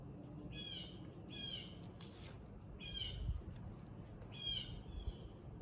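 A bird outdoors gives a repeated call in regular bursts, moderately near, over a soft background hiss.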